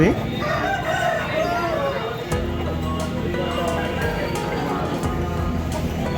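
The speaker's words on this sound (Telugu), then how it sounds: "ఈ పుంజులు వచ్చేసండి చాలా కూడా పవర్ఫుల్గా ఉన్నాయి" A rooster crows loudly nearby at a rooster market, its long rising call standing out over background chatter and other fowl clucking.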